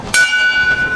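A bell rung at Tracy's King Crab Shack when a king crab bucket is ordered: one sharp strike followed by a long, steady ringing tone that sustains close and loud.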